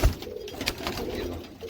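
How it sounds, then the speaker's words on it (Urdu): Rampuri pigeons cooing at close range, a soft low burble heard amid rustling and handling noise, with a voice murmuring in the background. "یہ سلیم باری کے کبوتر ہیں"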